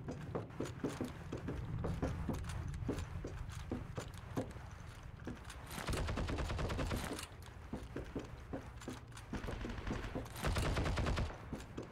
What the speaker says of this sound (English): They're all shooting